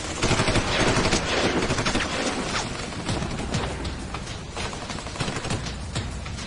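Dense gunfire from a battle scene in an action film, with sustained bursts of rifle and machine-gun fire layered together, loud and continuous throughout with no talk over it.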